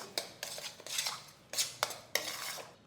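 Masala paste with fresh coriander stirred in a pan with a metal spoon, giving a series of scraping clinks and short bursts at an uneven rhythm, close and moderately loud, with no talking.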